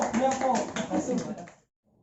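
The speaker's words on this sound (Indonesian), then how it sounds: "Tepuk tangan buat juga." A classroom group claps during a micro-teaching practice lesson, with brisk hand claps mixed with voices, then a quick cutoff into near silence.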